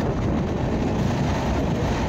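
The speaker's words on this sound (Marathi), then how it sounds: "बोगद्यामध्ये ना एक वेगळाच मोठा असा आवाज येतो गाडी चालत असल्यामुळे" Train running through a long tunnel on the Konkan route from Kankavli toward Panvel, a dense, steady roar with no breaks, loud and enveloping, with no voices.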